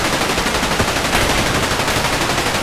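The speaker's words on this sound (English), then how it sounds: "Tank, destroy that machine gun position." In a stop-motion army men battle set in the liberation of France, a tank opens fire on a machine gun position amid dense, continuous rapid gunfire, loud and close with no pauses.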